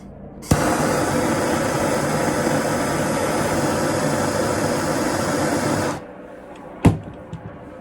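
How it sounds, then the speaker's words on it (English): A MAP gas torch heating the ends of a pan seal on a 1954 Oval Beetle, a loud steady roaring hiss for several seconds that cuts off abruptly, followed by a sharp clack and a small knock. "We're going to use the MAP gas and we're going to heat up the right ends"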